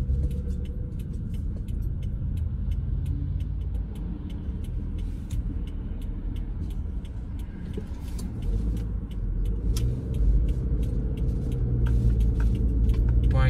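A car drives along Bustleton Avenue in northeast Philadelphia, a continuous low road rumble and engine drone heard from inside, with faint ticking noises over it.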